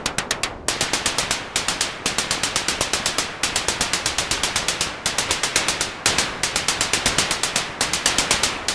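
Noise output of a Hexinverter VCNO synthesizer module driven by a sequence, loud rapid bursts of harsh noise in a fast, machine-gun-like rhythm with brief gaps between phrases.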